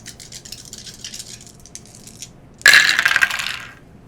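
Five dice are rolled in a Marvel Crisis Protocol tabletop miniatures game, a sudden loud clattering rattle that tumbles for about a second before settling, after quiet background murmur.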